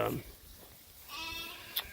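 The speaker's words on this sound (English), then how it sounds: "2 big old rams and a bunch of lambs" Hair sheep rams and lambs bleating near a pond dam, a couple of wavering calls close by over soft outdoor background with someone talking intermittently.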